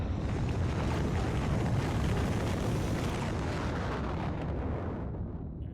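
Rocket launching from a silo in Factorio, a heavy, continuous roaring rumble with deep low-end weight that holds strong for several seconds and then begins to thin and fade toward the end.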